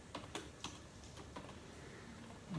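Keystrokes on a computer keyboard entering an SQL insert command, a few sparse, faint clicks spaced irregularly over a quiet room hum.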